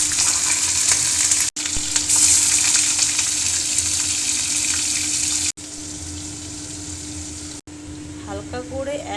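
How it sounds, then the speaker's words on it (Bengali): Paneer cubes fry in about four tablespoons of hot oil, giving a steady, loud sizzle with crackling that runs throughout, broken by a few short edit cuts. "হালকা করে 1 থেকে 2 মিনিট ভেজে নেব"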